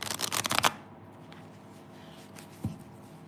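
Tarot cards shuffled in a quick, close riffle of dense papery flutters lasting under a second, then near quiet with one soft tap later.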